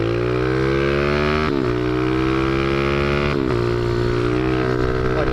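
A motorcycle is ridden hard up through first to fourth gear into a wheelie, its loud close engine note rising in steady pitch sweeps with brief dips at each gear change.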